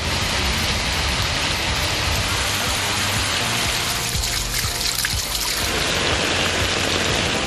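Heavy rain pours steadily in a news report, a dense, constant hiss of water falling and trickling on surfaces, loud and unbroken throughout with no voices.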